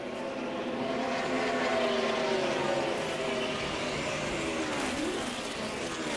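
NASCAR stock cars race at Dover during the 2008 Camping World RV 400, several engines roaring together in a steady, continuous drone with pitch sweeps as cars pass, and faint commentary blending under the noise.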